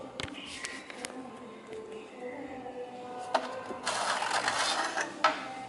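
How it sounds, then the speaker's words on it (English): Bottom dust filter pulled out of a Cooler Master ATCS 840 PC case, a series of plastic clicks and knocks leading to a longer scraping slide, close and moderately loud. "Take out the bottom dust filter."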